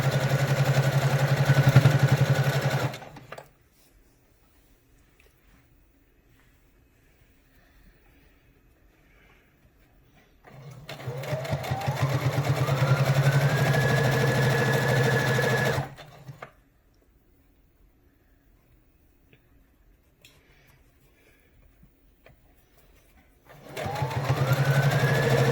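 A sewing machine stitches a seam through many layers of fabric on a face mask, running in three close, steady motor bursts separated by quiet pauses.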